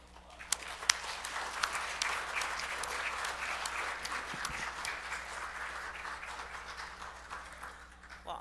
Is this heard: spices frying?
no